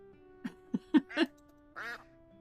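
Cartoonish ducks, called quackaries, quack in a video game: four short quacks in quick succession, then one longer, drawn-out quack, soft and clean with no other noise.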